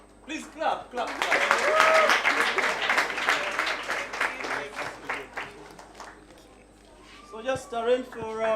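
Audience clapping for the third-place debate team from Kabale Trinity at a debate academies awards event, a dense burst of applause that swells, holds, then thins out, with a voice speaking over it near the end.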